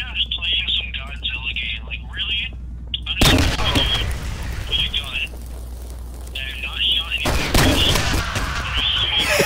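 Grenade blast and gunfire in the video game SMOD Outbreak, with two heavy booming explosions rolling out amid rapid crackling shots and a steady background hum.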